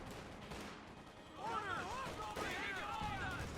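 Mortar and gunfire crackle and thud in a Company of Heroes 2 battle, a steady rumbling din of distant shots under a caster's voice, with tonal game sounds sweeping in partway through.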